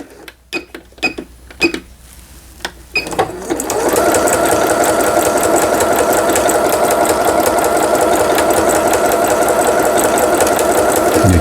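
A few sharp clicks and knocks, then a Singer 7640 sewing machine starts up after repair and runs steadily at speed, a loud, even mechanical whir with a rapid rattling rhythm.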